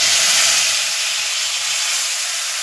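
Bottle gourd puree sizzling as it is sautéed with lightly cooked vegetables in a pan for a healthy soup, a steady bright hiss that holds loud and even throughout, easing slightly after the first half-second.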